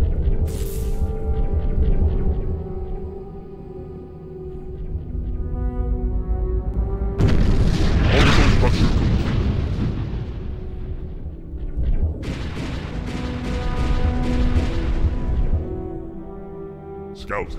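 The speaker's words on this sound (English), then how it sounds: "Let the cannons roar." Deep rumbling cannon booms from the video game Sins of a Solar Empire swell and roll over a low droning background, two big blasts with long decaying tails, heavy and loud.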